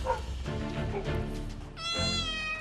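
A street cat meows several times up close, drawn-out plaintive calls with a louder, higher meow near the end, alone without talk.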